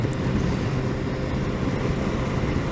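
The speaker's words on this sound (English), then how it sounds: "this engine sounds like it's a racing engine. It sounds like it wants to go." A 2018 BMW S 1000 XR motorcycle engine heard while riding, a steady dense roar blended with wind rush, loud and continuous without breaks or speech.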